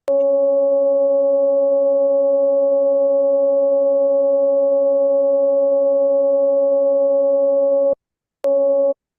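Sonified brightness variation of a hot early-type star comes through as a loud, steady electronic tone with a few harmonics, holding unchanged for about eight seconds, then cutting out before a brief return.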